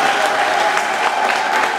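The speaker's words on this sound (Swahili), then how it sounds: "Tumpigie makofi ya afadhali." Steady, dense applause from a wedding congregation in a church hall, a loud crowd clapping continuously throughout with no pauses.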